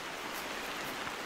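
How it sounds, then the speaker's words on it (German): Steady rain falling in the hunting video game theHunter: Call of the Wild, a dense continuous hiss of drops on surfaces, even and moderately loud with no speech. "Schön, dass es jetzt regnet."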